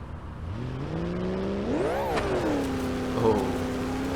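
A go-kart engine in BeamNG.Drive revs hard on a sand dune while the clutch slips and burns, its pitch climbing, peaking sharply, then falling back into a steady high whine, close and loud throughout.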